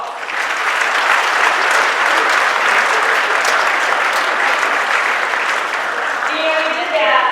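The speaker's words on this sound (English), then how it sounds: "Give yourselves a round of applause." At a university sports awards event, a large room of people bursts into loud, sustained applause, a dense even roar of clapping throughout, with someone starting to speak over it at the very end.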